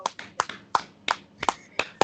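Only a few people clap here, with sparse, uneven claps close by and some rooms' echo, as a podcast crew greets a new member.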